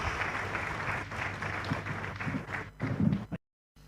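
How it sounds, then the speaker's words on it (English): An audience at a business event gives a guest a round of applause, dense clapping that carries on and then cuts off abruptly into silence. "a round of applause for my guest"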